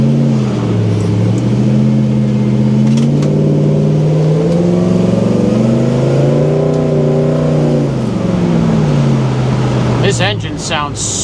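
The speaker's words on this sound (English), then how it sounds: "This engine sounds so good with this exhaust and everything." A deep 525 hp LS3 V8 in a 1971 Pontiac GTO revs and drops in pitch in smooth waves, loud and close with a throaty exhaust rumble, and someone talks under it.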